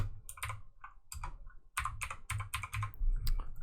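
Close-up typing on a computer keyboard comes in uneven clusters of crisp key clacks with short pauses, as a name is entered for a node in 3D software.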